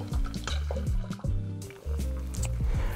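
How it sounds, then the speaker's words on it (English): Lime juice is squeezed by hand into a cocktail, a few soft liquid drips and splatters in short bursts, close and fairly quiet, with no talking. "we'll just squeeze the entire lime in"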